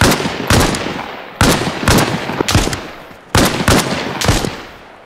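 Rifle fire in Arma Reforger, loud close bursts arriving in three clusters of rapid shots, each followed by a decaying echo tail.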